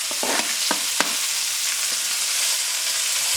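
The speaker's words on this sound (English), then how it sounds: "we're gonna saute these shits up over medium heat. Apples and onions" Apples and onions saute in pork fat over medium heat, a close, steady sizzle broken by a few sharp clinks and scrapes of stirring near the start.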